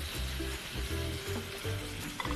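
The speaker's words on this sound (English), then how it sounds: "you want each of the prawns to get a chance to be right against the hot surface of that pan" Prawns sizzling against the hot surface of a pan for pad thai, a close, steady frying hiss with brief pulsing bursts over a couple of seconds.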